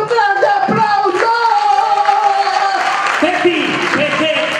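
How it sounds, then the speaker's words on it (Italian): Applause from a party crowd welcoming guests at Don Sebastiano's birthday celebration, a steady loud clatter of clapping that runs through the whole stretch with voices mixed in. "noi li accogliamo con un grande applauso!"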